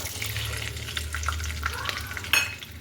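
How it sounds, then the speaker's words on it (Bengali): Green peas hit hot oil in a pan, giving a soft, steady sizzle with a few light stirring clinks and scrapes, close and fairly quiet, with no talking. "এবারে আরও আমি তেল দিয়ে দিয়েছি এখানে, দেওয়ার পরে এখানে আমি দিচ্ছি এই মটরশুঁটিগুলো।"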